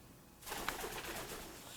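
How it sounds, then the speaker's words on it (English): A pet Cape parrot gives a short cooing call indoors, close and moderately quiet, over a brief burst of breathy background noise. "Here are my two parrots, Keely and Truman."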